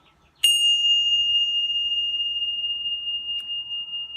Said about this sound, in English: I wanted to start out with a little gong